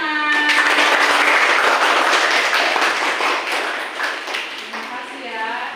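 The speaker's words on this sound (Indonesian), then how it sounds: "Oke, beri tepuk tangan." Classroom applause after a student group presents its discussion results, a short burst of clapping from a roomful of classmates with chatter and voices mixed in, fading out toward the end.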